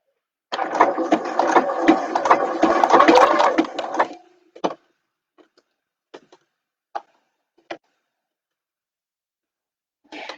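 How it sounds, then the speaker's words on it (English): A sewing machine stitching fabric for a bag in a fast, steady mechanical run lasting about four seconds, then several isolated clicks and knocks from the machine. "So back to the sewing machine"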